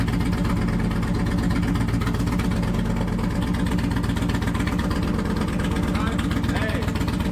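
An Indian Challenger motorcycle engine idles with a steady low rumble throughout, close and fairly loud, while people talk over it.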